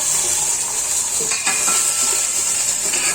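Cumin seeds sizzle in hot oil as a tempering for a cauliflower and potato dish, a loud, even hiss with a few brief crackles and pan clinks and no voices.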